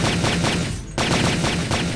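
Pistol fire on a practice range in the Blade II video game, a steady rhythm of rapid shots under dense, loud game noise that breaks off for a moment and then picks up again.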